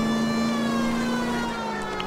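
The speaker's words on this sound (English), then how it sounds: "Lots of sirens in this episode." A police siren wails in the L.A. Noire video game, a steady sustained tone with harmonics over a low engine rumble, fairly quiet and with no speech.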